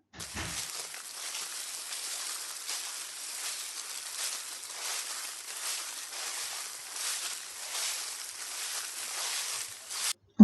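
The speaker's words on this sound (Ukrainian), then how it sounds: "Шуркотіння листочків." Continuous dry rustling of leaves, a soft airy crackle that swells and fades in gentle waves for several seconds, with no voices.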